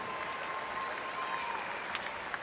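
An audience applauds at a Nebraska Class C1 boys basketball state championship ceremony, a sustained wash of clapping from a large crowd in a gym, with a faint voice over the top.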